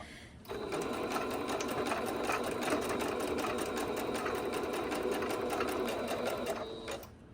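Sewing machine stitching vintage upholstery fabric for a soft journal cover, running at a slow steady pace with a continuous rapid needle chatter, close and even for about seven seconds with no talking.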